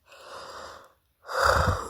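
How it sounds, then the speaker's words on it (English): A person lets out a long, drawn-out yawn: a breathy exhale, a short pause, then a louder, deeper second phase, close and alone. "Now that was a real yawn"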